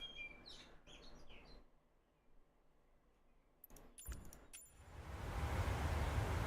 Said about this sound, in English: some very noisy birds in my garden, not sure if you can hear that